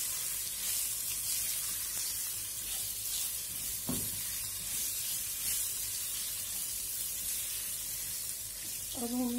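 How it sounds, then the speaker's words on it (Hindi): Boiled potatoes frying in a pan of hot oil for dry aloo and arbi sabzi, a continuous close hiss and crackle with occasional stirring knocks, no one talking. "अब हम इसमें बॉईल किए हुए आलू डाल देंगे सबसे पहले।"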